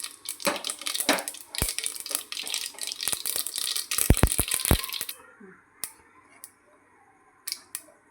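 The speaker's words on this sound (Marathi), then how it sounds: "आता इथे जिरं मोहरी तळतळलेलं आहे" Cumin and mustard seeds crackling and popping in hot oil with asafoetida, a dense run of sharp close pops that thins out to scattered isolated crackles.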